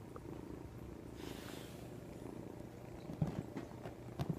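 Cats purring softly and steadily close by, a low continuous rumble with a couple of faint soft knocks near the end.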